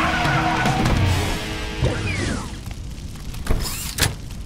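A cartoon rescue bus arriving: a loud engine and tire screech at first, then braking and door-like clunks as it settles, close and prominent with no clear talk.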